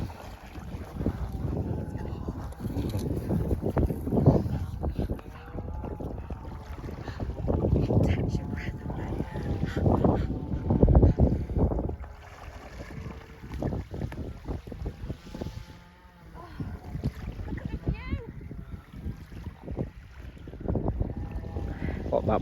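Boat out on the water near a port off Thasos, a low rumbling drone heavily buffeted by wind noise on the microphone, with people talking intermittently over it.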